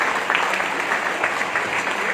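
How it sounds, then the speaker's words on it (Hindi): Continuous applause from an audience at a network marketing gathering in Vishnugarh block, thick even clapping, close and loud throughout. "तालियां तो रुकनी नहीं चाहिए"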